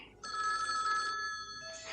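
A telephone bell rings in a loud, sustained electronic trill that starts after a brief quiet moment and holds steady, fading slightly near the end, with a faint voice underneath.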